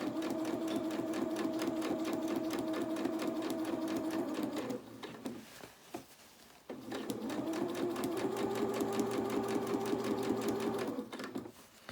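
Sewing machine stitching a doll's twirling dress with a net skirt, needle kept down in the work. Two close runs of steady whirring and needle chatter are split by a brief pause with soft handling noise, and there is no talking.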